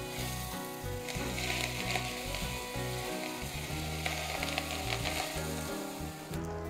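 Hot sunflower oil poured over spices for a Korean-style courgette salad crackles and sizzles continuously, a dense close frying hiss with uneven pops, quiet overall with no talking.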